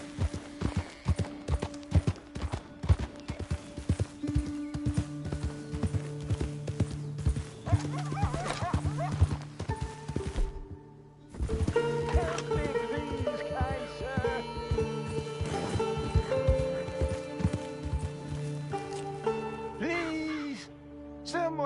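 A horse gallops in Red Dead Redemption 2, its hoofbeats clopping in a steady beat through most of the passage, with game music and ambience layered over it and a short near-silent break in the middle.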